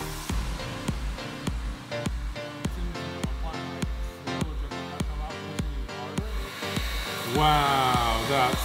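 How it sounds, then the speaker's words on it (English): A heat gun blows with a steady, close airy roar while heating the edge of a plastic sheet for bending, under rhythmic music with regular beats, and people talk briefly. "Got my heat gun ready to go."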